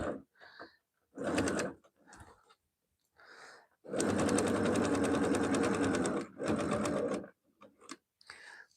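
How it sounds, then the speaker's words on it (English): A sewing machine runs a straight stitch in short bursts and then one longer steady whirring run, close and loud, separated by quiet pauses with faint handling sounds. "And so I'm just using a straight stitch."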